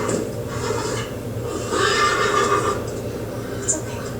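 A horse whinnies loudly in a TV drama scene, a rising, wavering neigh mid-clip over a constant background bed, with voices talking faintly underneath.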